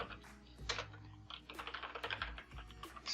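Keys clatter on a computer keyboard as JavaScript code is typed, a steady run of quick, close clicks with small pauses and uneven bursts of keystrokes.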